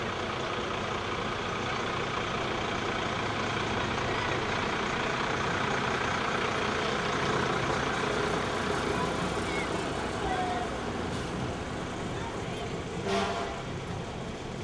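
Fire truck at a 2013 Jaycees Christmas parade, a low engine rumble idling steadily beneath outdoor crowd noise, with a commentator speaking over it.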